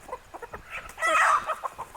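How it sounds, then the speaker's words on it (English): Chickens cluck and squabble in a brief fight, a run of short clucks leading to a louder squawking burst mid-way, then more scattered clucks nearby. "Chickens are busy massacring each other."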